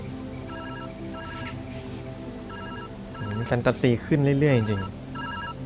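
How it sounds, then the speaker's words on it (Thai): A telephone rings in the video game Viewfinder, a steady repeating electronic ring pattern at moderate level, joined partway through by a person talking and reacting over it. "โทรศัพท์อยู่ไหนเนี่ย"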